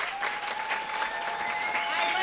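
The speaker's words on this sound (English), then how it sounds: "So please, a round of applause." An audience at the 2014 La Crosse Mardi Gras event applauds steadily, a dense wash of clapping with a faint sustained tone and some crowd voices underneath.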